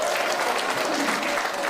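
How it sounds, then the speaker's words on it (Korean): An audience applauds as a lawyers' association head is welcomed to the stage at a constitution lecture in Busan; steady, dense clapping fills the room throughout, with no voices over it. "박수로 맞이하겠습니다"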